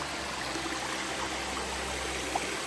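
A jungle stream near a waterfall in Australia rushes in a steady, continuous wash of flowing water, close and even, with no voices.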